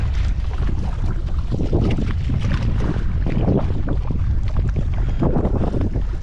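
Kayak paddling on Rathgama lagoon, with constant water splashing and lapping against the hull under steady wind rumble on the microphone, loud and close throughout.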